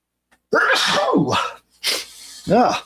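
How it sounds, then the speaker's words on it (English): A loud, close sneeze bursts out, followed by a short breath and a second voiced sound. "Nice sneeze there to edit out."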